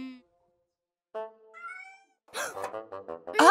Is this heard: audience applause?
no